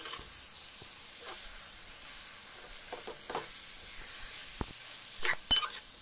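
Chicken coated in salt and chili powder is added to a hot pan for a Telugu chicken egg curry, with a soft steady sizzle and a few sharper stirring scrapes and clinks near the end.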